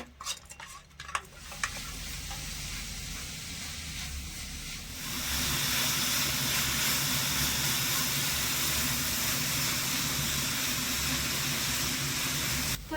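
Grated coconut and jaggery stirred and fried in a pan, a steady sizzle that grows louder and denser partway through, with occasional scrapes of the spoon against the metal.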